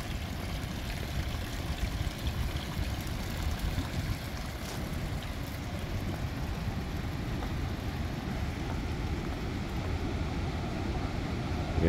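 River Bistrica rushing through its canyon near Foča, a steady broadband roar of flowing water, loud and unbroken throughout with no voices.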